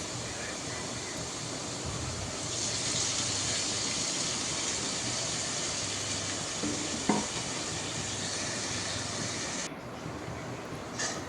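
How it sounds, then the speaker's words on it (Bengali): Onion and spices fry in oil with a continuous hiss that swells after a couple of seconds, with occasional clinks of a stirring utensil and a brief sharper knock near the middle, heard up close. "তো এখানে পেঁয়াজ দিয়ে দিচ্ছি, তেল দিয়ে দিব, একটু পেঁয়াজ নাড়াচাড়া করে"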